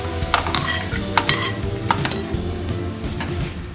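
Onions crackle and sizzle in hot oil in a kadai for egg biryani, with a constant frying hiss broken by sharp scraping clinks of a spoon stirring against the metal pan.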